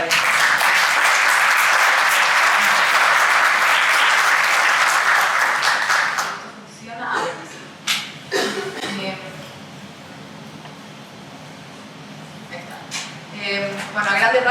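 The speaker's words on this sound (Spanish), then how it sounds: "les pido un aplauso para ellos" An audience applauds at a talk on vulnerable children in Chile, loud dense clapping for about six seconds before it stops abruptly, followed by scattered coughs and throat clearing in a quieter room.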